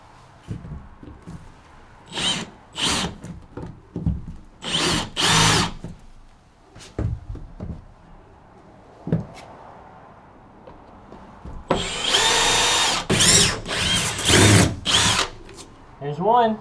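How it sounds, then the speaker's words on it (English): A power drill unscrews rotted subfloor screws in bursts, short whirring runs separated by pauses, ending in a longer, louder stretch of grinding drilling up close. "I think I will have to try to unscrew it"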